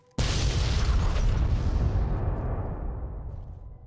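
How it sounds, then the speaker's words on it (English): A bomb goes off in Fallout: New Vegas with a sudden loud boom, followed by a broad roaring rumble that slowly fades over several seconds, with no voices. "Just gotta plant the bomb and then I can leave. Alright, let's watch this thing blow."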